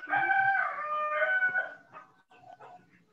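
A rooster crows nearby, one long, loud, strained call followed by a few softer trailing notes, with no other sounds around it.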